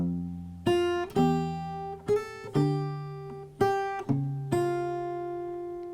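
A bass line for a song is picked slowly on guitar, one clear plucked note or pair of notes at a time. Each note rings and decays before the next, in an unhurried, uneven rhythm with no voices.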